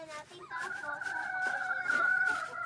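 A rooster crows with a long sustained call, with some clucking before it, close by and fairly loud over a quiet yard.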